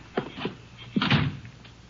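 A door in a radio drama creaks and thunks open with a few close handling clicks and a louder latch clunk midway, in a quiet room.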